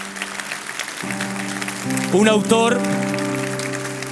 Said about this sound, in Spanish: Dale un fuerte aplauso al Señor si quieres.